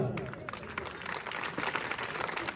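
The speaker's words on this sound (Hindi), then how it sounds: "एक बार फिर से ताली बजाओ।" Dense crowd clapping at a Shrimad Bhagwat Katha religious gathering, a busy wash of noise, steady and moderately loud throughout.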